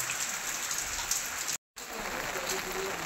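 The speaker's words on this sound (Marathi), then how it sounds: "पाऊस पडतोय, काय भात कापलेला आता." Rain falls on a harvested rice field in the Konkan countryside, a steady, fairly soft hiss of drops with a brief moment of silence midway.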